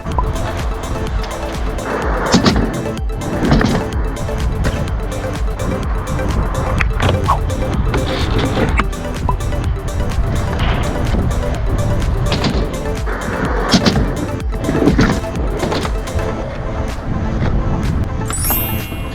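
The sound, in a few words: skateboard rolling up and down a bank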